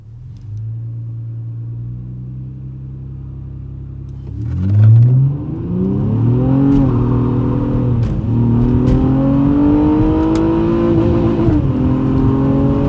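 A Honda Accord Coupe V6 accelerates hard from a steady idle, the engine note rising loud and close through the gears with a brief shift break, rumbling strongly with no talking over it.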